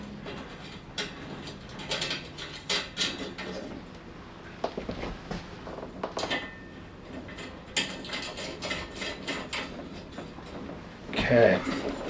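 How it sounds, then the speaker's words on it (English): Metal nuts clicking and rattling onto M6 bolts with washers while a sim racing cockpit is assembled, with small scattered taps and a sharper clatter near the end, close up under occasional speech. "Put a nut on each one."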